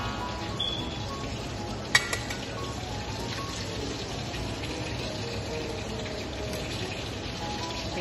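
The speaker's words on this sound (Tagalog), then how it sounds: "Dito prito natin yung isda, okay?" Fish frying in a pan sizzles and crackles steadily without pause, close and moderately loud, with one sharp clatter early on and no talk.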